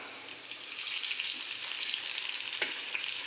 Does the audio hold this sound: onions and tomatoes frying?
yes